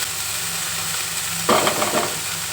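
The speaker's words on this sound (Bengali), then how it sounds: "ক্যাপসিকাম আর বিন কড়াই, ওগুলো দিয়ে ভালোভাবে একটু নাড়িয়ে নেব" Capsicum and beans being stirred in a wok: steady frying hiss throughout, then a louder burst of sizzling and scraping halfway through, close and without talk.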